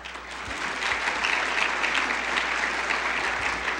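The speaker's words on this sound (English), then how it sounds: "Please give them a round of applause." Audience applause for sponsors at a finance conference, a steady wash of many hands clapping that swells and holds throughout.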